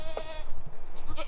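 Goats bleat at feeding time in a farmyard pen, with one clear bleat near the start and another toward the end, set against steady background noise.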